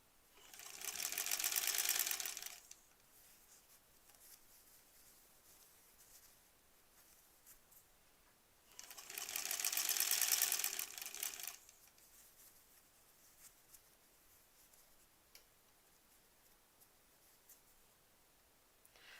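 A sewing machine runs in two short bursts of fast, buzzing stitching while a granny-square quilt is pieced. Each burst lasts about three seconds and is separated by quiet handling of fabric, heard close with no talking.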